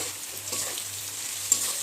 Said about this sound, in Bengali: এবার আমি আলুটাকে ভালো করে ভেজে নেব